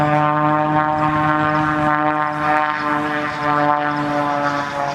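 An aerobatic propeller airplane performing at the Selfridge ANGB airshow drones with a loud, steady engine tone and rich harmonic buzz, holding constant as it pulls into vertical manoeuvres.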